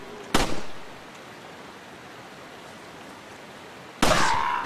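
Two sharp, loud gunshots in Resident Evil 4, one near the start and another near the end, separated by a stretch of quiet background hiss.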